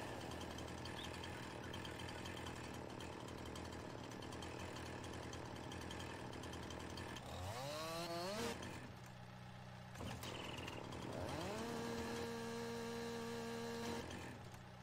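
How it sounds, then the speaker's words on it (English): A chainsaw in Farming Simulator 19 drones under a steady engine hum, rising in pitch as it revs and bites into trees, then settling back to a buzzing idle. "how to kind of use this chainsaw and do some things here in FS19"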